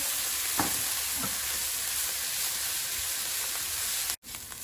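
Stuffing fries in a little vegetable oil in a pan, giving a steady close sizzle with a few faint stirring knocks and a brief cut near the end.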